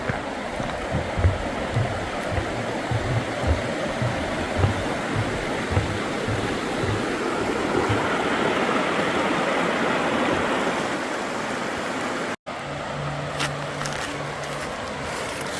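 A creek rushes steadily below a wooded Appalachian Trail path near Damascus, a constant, even roar of flowing water heard from above, with a brief dropout and a low hum near the end.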